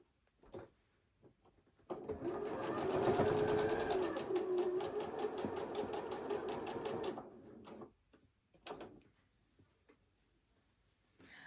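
A sewing machine stitches a quilt seam in a quiet room, a rapid close mechanical whirring burst of several seconds, framed by brief softer handling clicks before and after.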